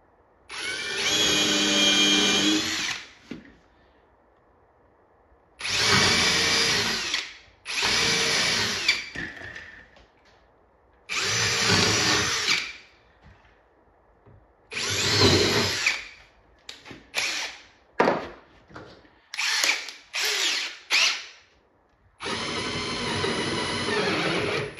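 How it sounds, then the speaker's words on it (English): A power drill with a countersinking bit bores a pilot hole during an arcade cabinet restoration, revving loudly in several bursts of a few seconds each, then a run of short stuttering pulses, with no speech. "So we're gonna use this countersinking bit just for a pilot hole"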